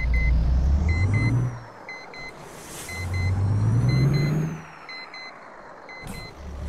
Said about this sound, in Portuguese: Caminhão que apita